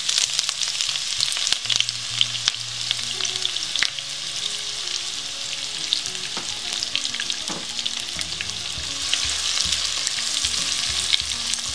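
Chopped onions with cinnamon and cardamom frying in hot oil for a traditional Old Dhaka white chicken curry, a loud, dense, continuous crackling sizzle with occasional stirring scrapes and clicks, no talking.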